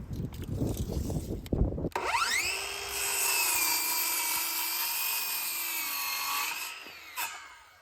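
A power saw whines up and cuts steadily through wood for several seconds, following a stretch of clattering workshop noise.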